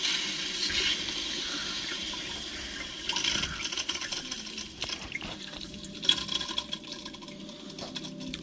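Water rushes out of a pressurised floor-heating pipe, a PER 12 line running inside a 16 sleeve, as the pressure is released: a steady hissing, gurgling flow close by, with a few knocks and clatters partway through.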